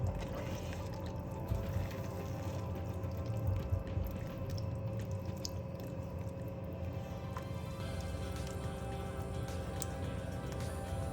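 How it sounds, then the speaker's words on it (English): Half a cup of water poured into a homemade romesco sauce in a kitchen, a steady close trickle and splash running throughout with faint background hum and no talking. "Half a cup of water."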